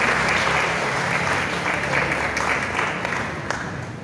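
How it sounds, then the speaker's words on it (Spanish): Church congregation applauding a couple celebrating their 25th silver wedding anniversary, a loud sustained burst of many hands clapping that carries on steadily throughout. "felicitamos nuevamente a John Jairo y a Gilma con un fuerte aplauso"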